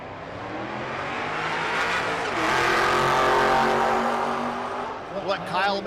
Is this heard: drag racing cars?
yes